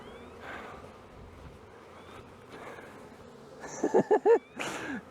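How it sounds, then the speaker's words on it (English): A swarm of bees clustered on a fence gives off a low, steady outdoor buzz that stays faint for most of the stretch, then a few louder, closer bursts rise near the end. "Camera's got a few bees on it."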